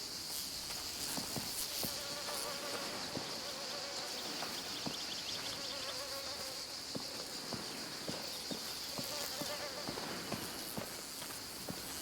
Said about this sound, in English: Man, there's bees everywhere.